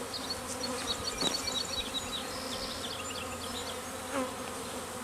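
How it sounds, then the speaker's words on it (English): Honey bees being shaken off a hive frame during requeening, with a steady, dense buzzing close by that rises in a couple of brief swells. "That'll get all them bees off."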